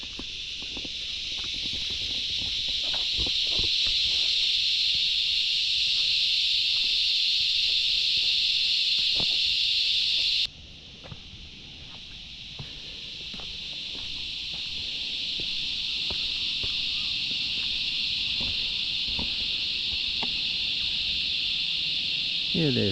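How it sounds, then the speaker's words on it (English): A loud, sustained high-pitched buzz of cicadas drones throughout, briefly dipping in volume before swelling again, with faint rustling underneath. "Love this cicada call."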